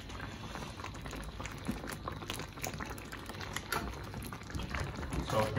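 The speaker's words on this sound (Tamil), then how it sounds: "ஓகே அது இப்போ நல்லா பாயில் ஆகிட்டு இருக்குது" Beef stroganoff sauce bubbling steadily in a pan, a continuous close, even simmering hiss and crackle with no voices.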